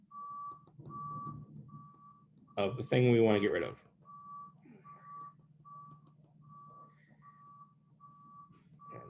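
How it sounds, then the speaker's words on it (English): A truck backing up outside sends out a steady series of evenly spaced reversing beeps, faint and distant, running under a man's lecture speech. "a truck was backing up outside with the beeping"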